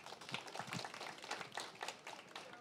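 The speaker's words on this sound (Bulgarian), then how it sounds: "Аплодисменти." Scattered audience applause, faint and uneven, with distinct individual claps popping out of a thin ongoing patter and no talking.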